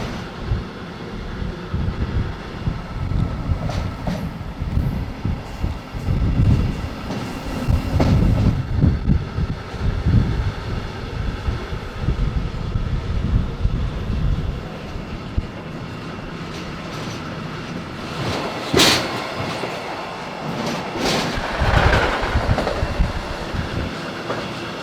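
Freight train rolling along the main rail corridor toward Linz, Austria, in cold snowy weather, a steady loud rumble with rhythmic clickety-clack of wheels over rail joints, wind buffeting the microphone and a few sharp metallic clanks.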